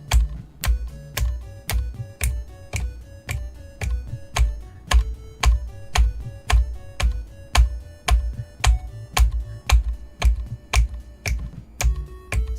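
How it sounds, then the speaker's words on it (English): Sharp computer keyboard taps land in a steady pulse over loud music with a strong beat, each stroke a crisp click riding on the rhythm, while a tune plays throughout with no talking. "Now you just hit the keyboard at that time"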